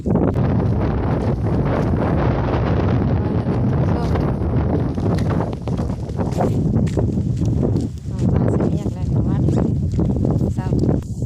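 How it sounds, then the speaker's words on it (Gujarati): Steady, roaring wind buffets the microphone throughout in an open wheat field on a farm, a constant loud rush with no pauses. "ઉડી ગયા બધા પવનના, બહુ પવન છે."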